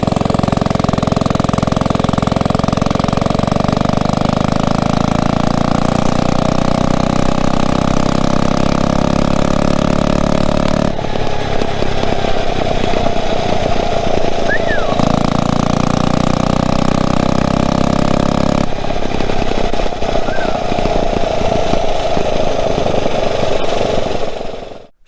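Homemade pocket rocket minibike with a bypassed governor runs flat out on a top speed pass, its small engine droning loud and steady for the whole stretch, pitch rising and dipping slightly with a couple of brief shifts in tone.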